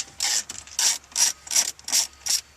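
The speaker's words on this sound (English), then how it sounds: "And we're going to remove that screw, and there's one up here at the top as well." A screw is turned out of a center console panel in a Honda CR-V, heard as six short, evenly spaced scraping ratchet-like bursts close up, with no voices.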